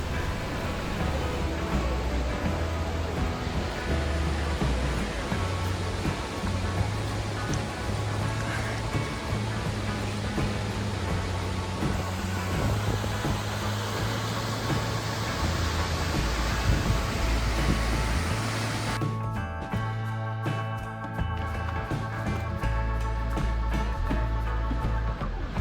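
Bridal Veil Falls in Colorado roars as a continuous broadband rush of falling water, loud and close throughout, with the texture shifting slightly near the end.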